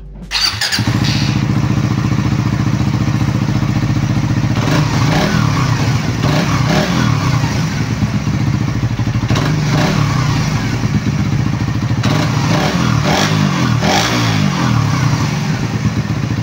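A Suzuki Raider 150 Fi underbone motorcycle engine idles loudly up close, then is blipped and revved repeatedly in several surging bursts with a clattering mechanical edge.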